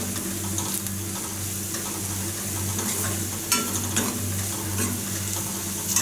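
Egg roast masala with green and red chilies being stirred in a hot pan, a constant sizzle under a low hum, with occasional scraping strokes of the spoon.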